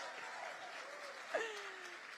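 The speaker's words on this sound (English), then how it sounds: "let's clap for 26 years of marriage" Faint, distant applause from a crowd at a political rally in Austin, a steady wash of clapping with a brief voice rising over it.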